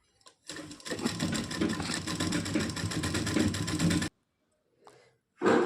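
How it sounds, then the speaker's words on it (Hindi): Electric sewing machine stitching a saree lace trim onto a blouse sleeve, a steady dense whir of rapid stitches lasting about four seconds, then stopping, with a short restart at the end. "अब इसकी हम सिलाई करेंगे।"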